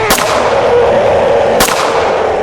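Two loud shotgun blasts, about a second and a half apart, each a sharp crack followed by a long rumbling decay.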